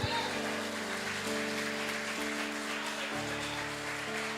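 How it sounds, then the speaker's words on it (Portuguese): Church congregation applauding, a steady wash of clapping that runs throughout alongside sustained musical tones, fairly loud and continuous with no talk. "Alguém pode aplaudir por isso?"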